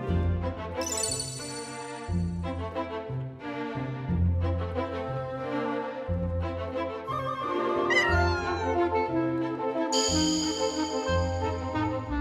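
A black house cat with black claws meowing among busy, dense music, with a long yowling meow standing out partway through. Japanese period drama setting around the novelist Natsume Sōseki, no talk during the sound.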